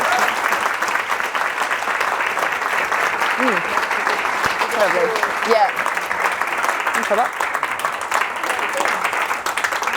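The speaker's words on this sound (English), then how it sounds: "could we just give a lovely round of applause?" A university audience gives a steady round of applause for a netball player after a question session, dense continuous clapping throughout with brief spoken remarks layered on top.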